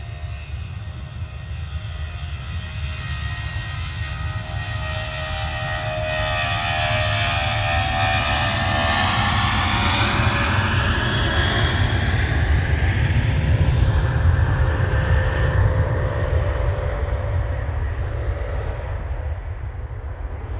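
Norwegian airliner departing for Bergen from Manchester Airport, a steady jet roar swelling and then easing over about twenty seconds, with a shifting whine as the plane moves past at a distance.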